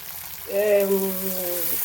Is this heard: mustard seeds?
yes